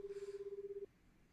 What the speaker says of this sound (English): Tateno got out his phone and called Kano.